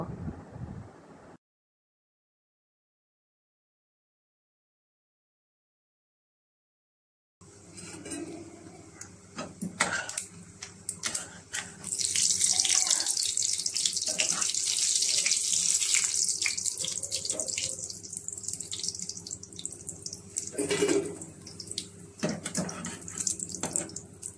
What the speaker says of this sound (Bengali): এবার উল্টিয়ে পাল্টিয়ে সুন্দর করে বড়াগুলোকে একদম লাল লাল করে ভেজে নিব।